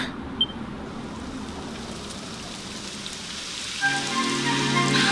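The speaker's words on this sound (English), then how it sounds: "It would have to go and start raining, wouldn't it?" Rain starts falling in a video game, a soft steady hiss of drops on surfaces that swells louder toward the end, heard alone with no voices.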